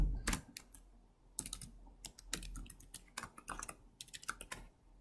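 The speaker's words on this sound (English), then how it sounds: "So this is the same paraphrase which we have used in generating the keys from the PuTTYGen. So I will be typing that." A passphrase is typed on a computer keyboard for an SSH login, heard as close, irregular bursts of crisp keystrokes separated by short pauses, with no talking.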